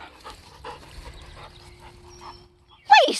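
A German shepherd puppy gives a soft whimpering whine and small yips at close range, ending in a sharper high yelp; quiet handling noise runs underneath.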